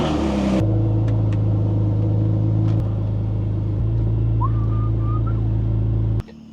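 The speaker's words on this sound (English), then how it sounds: "I got to pull in Donald's car" A Ford Mustang idles and rolls slowly into a garage, its low engine rumble steady and close for several seconds before cutting off abruptly near the end.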